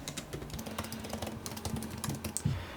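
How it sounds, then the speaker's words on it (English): Close, steady typing on a computer keyboard, a quick run of light clicking keystrokes that continues throughout. "So I will just type that in."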